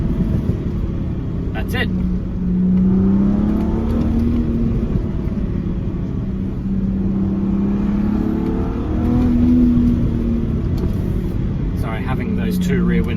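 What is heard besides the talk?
R36 car engine accelerating with crackle map exhaust pops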